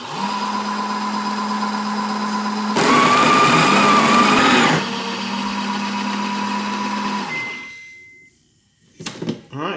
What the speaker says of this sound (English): It takes coffee from the hopper, grinds it, and it even tamps it